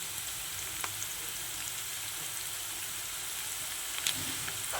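Onions, green chillies, curry leaves and turmeric fry in a pan with a steady, soft sizzle that carries on evenly throughout, without any talking.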